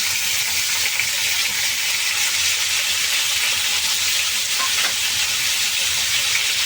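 Onions frying and being stirred in a pan for egg curry, a steady close sizzle with soft scraping stirs throughout and no talking.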